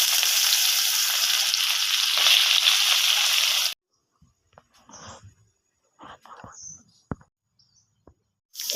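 Dry chilli, bay leaf, whole cumin and chopped onion frying in hot oil for an egg curry, a loud steady sizzle for several seconds that cuts off abruptly, followed by quiet sparse clicks and soft stirring sounds.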